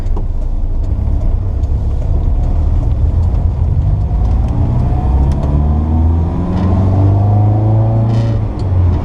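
A restored 1965 Volvo 1800S engine runs steadily with a deep, continuous rumble, its revs rising and falling smoothly, close and loud throughout with no talk.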